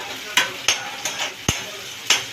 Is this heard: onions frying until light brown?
yes